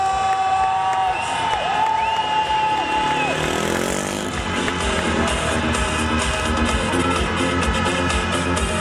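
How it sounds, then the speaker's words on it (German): Crowd cheering and applauding for speedway riders at the Güstrow Pfingstpokal 2016, loud and steady throughout, with motorcycle engines rising and falling in pitch beneath the noise. "Also nochmal ein riesen Applaus für Kevin Bollard und Tommy"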